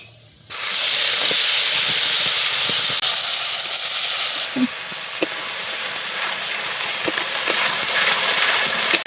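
Ground onion and garlic paste hits hot oil already seasoned with cumin, dried chilies and bay leaves for a rohu fish curry, bursting into a loud sizzling hiss that settles into steady frying with occasional stirring clicks.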